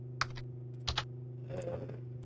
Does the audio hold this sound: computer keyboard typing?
yes